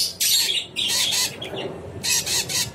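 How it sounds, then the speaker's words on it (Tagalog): Green pet bird giving a full call, several loud harsh squawking bursts in quick succession close by, with no talking over them. "Pero siya, yung isa, yung green, buo yung huni niya. Tweet-tweet talaga ito,"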